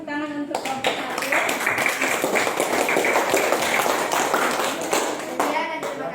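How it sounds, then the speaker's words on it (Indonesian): A class applauds a student group in a lesson, with dense, steady clapping close by for several seconds; brief voices are heard at the start and end. "berikan tepuk tangan untuk kelompok satu"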